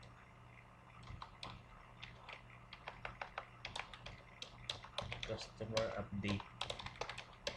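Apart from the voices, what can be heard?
typing on a computer keyboard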